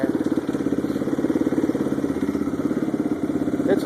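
A warmed-up 2002 Yamaha 660R engine with suspected head noise and carburetor trouble runs at a high idle, giving a steady, close, rhythmic chugging clatter that holds even throughout with no voices over it.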